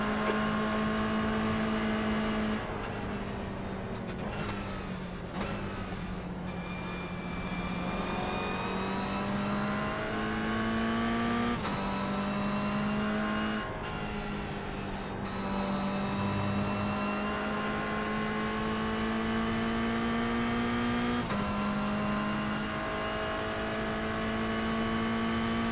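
GR Cup race cars lap Okayama in the iRacing sim, a close engine note climbing and dropping through repeated upshifts and downshifts, with tire and ambient car noise steady underneath.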